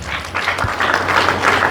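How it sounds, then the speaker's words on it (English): A crowd at a colloquium marking the University of Calabar's 50th anniversary bursts into brief, lively applause. The close, dense clapping lasts under two seconds. "Now give a round of applause"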